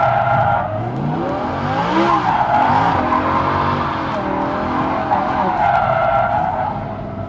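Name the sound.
car driving with tire squeal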